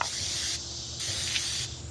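Short hissing bursts of olive oil sprayed from a mister onto a plastic lid, two or three close, steady sprays separated by brief pauses.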